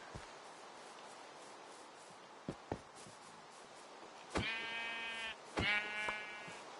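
Sheep bleating in the Minecraft video game, two distinct bleats in the latter half, each about a second long, preceded by a few soft footstep-like taps over quiet background.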